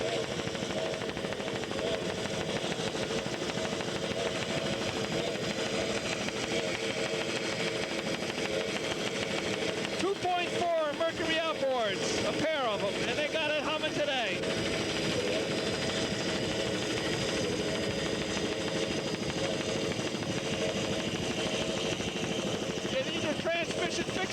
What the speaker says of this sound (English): It's a fishing boat, but they made it a race boat today, and they got it humming.